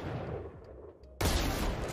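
One sudden, loud sniper rifle shot in the Valorant video game, cutting in sharply after quiet in-game ambience with faint footsteps and then ringing on.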